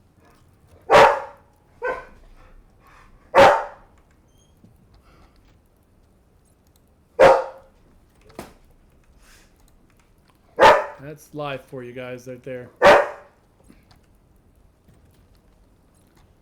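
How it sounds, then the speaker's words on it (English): Radar, an excitable pet dog, lets out several sharp barks spaced across the scene, close and loud, with a faint yip between, while a person talks and hushes him in a quiet room. "that's my dog Radar."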